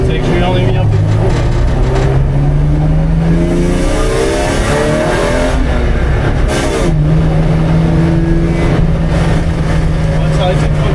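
A car engine revs hard on a race circuit, its loud pitch climbing and falling through gear changes, with clutch strain mentioned as the driver overdoes it; continuous close engine roar with a voice speaking over it.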